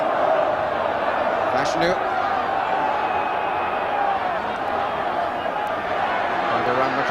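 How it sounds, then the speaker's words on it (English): A football crowd at an FA Cup quarter-final between Wimbledon and Watford keeps up a steady, broad roar after a goal, while a commentator talks over it throughout. "The goal has certainly woken up the crowd"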